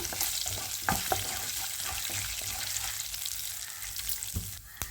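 Steady crackling sizzle of spices and cumin frying in hot oil for a tempering, with occasional scraping clinks from stirring; no voices.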